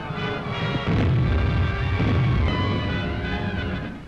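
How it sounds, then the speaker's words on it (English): Axis artillery shells exploding near men clearing an enemy minefield, heard as a sustained rumbling roar of blasts that swells and then eases off slightly. "Dangerous work made doubly dangerous by shells sent over from the Axis artillery."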